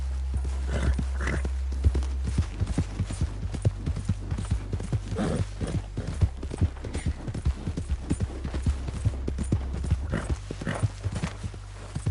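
Horse hooves clip-clop in Red Dead Redemption 2 gameplay, a steady, fairly close run of hoofbeats lasting about twelve seconds over a low rumbling background.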